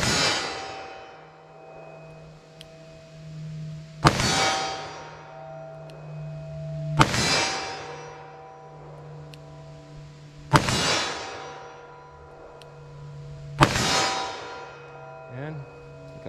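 .44 Magnum handgun shots at an outdoor range, five sharp loud reports spaced about three seconds apart, each with a ringing decay, over a steady background hum.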